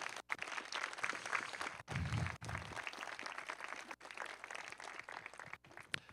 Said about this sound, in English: Please give her our biggest round of applause.